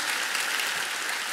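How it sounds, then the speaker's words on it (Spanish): A church congregation bursts into applause, a dense, steady wash of many hands clapping at once for a short burst with no pause in the sound. "Denles un aplauso fuerte, por favor, a ellos"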